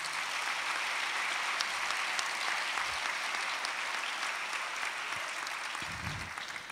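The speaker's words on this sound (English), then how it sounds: "Could we please give them a round of applause?" Applause for retiring school board members rises from a large audience at a district leadership kickoff, a soft, continuous sheet of clapping that holds steady and eases slightly toward the end.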